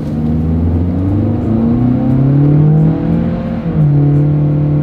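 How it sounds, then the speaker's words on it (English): A 2024 Toyota Corolla Cross at full throttle, its engine droning loud and close as it climbs steadily in pitch, dips briefly at a gear change, then pulls on again. "let's see how quickly we can get our new 2024 Corolla Cross here up to speed."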